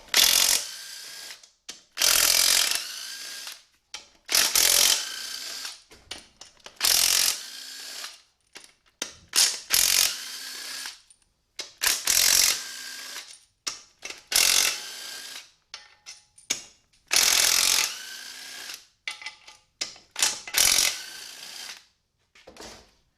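Ratchet wrench clicking in repeated bursts while 15 mm bolts are backed out of a 6L80-E automatic transmission, rapid pawl ticks in loud close strokes separated by short pauses, no talk.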